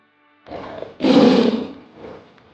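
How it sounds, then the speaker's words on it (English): A tiger roars, starting with a short growl and swelling into one loud, full roar that trails off into a softer rumbling tail, heard alone and close. "Tiger."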